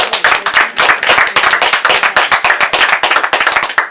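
A small group claps steadily and briskly for a few seconds, loud and close, with no voices.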